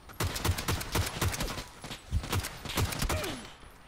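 Rapid video game gunfire, a steady fusillade of sharp closely spaced shots rattling continuously at moderate loudness.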